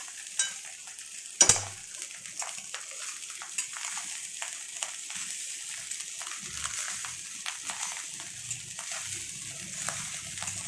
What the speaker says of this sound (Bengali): নেড়ে চেড়ে এপিট উপিট করে রাইসটার সাথে মিশিয়ে দিতে হবে।